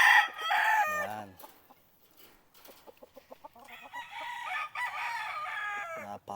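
A white kelso gamefowl rooster crows loudly at a breeding gamefarm, followed by a second, longer crow, with clucking and other fowl calls scattered between.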